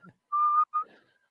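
Someone whistles a short, slow phrase of Pop Goes the Weasel in a Star Trek: Picard episode: a brief low note, then a long clear sustained tone and a shorter one. It is quiet, close and alone, with no talk over it.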